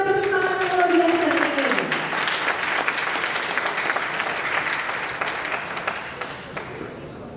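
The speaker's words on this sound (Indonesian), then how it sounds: "Tepuk tangan yang luar biasa." Warm applause from a seminar audience at a military academy greets the keynote speaker, dense clapping that gradually fades, with a brief tonal sound and a voice at the very start.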